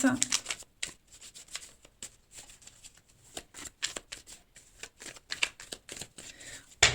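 Tarot cards being shuffled and cut in a series of quick riffles and soft slaps, close and moderately loud, with faint talk in the background.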